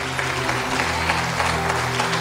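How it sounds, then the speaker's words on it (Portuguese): Church congregation applauding during a sermon, a steady dense round of clapping with a low sustained musical tone underneath, fairly loud and continuous. "Dá um forte aplauso a ele, em nome de Jesus."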